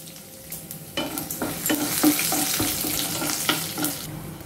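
A tempering of cumin, crushed garlic cloves and broken dried red chillies fries in a pan with a steady, close sizzle. Frequent stirring scrapes and clicks run throughout, with no talking.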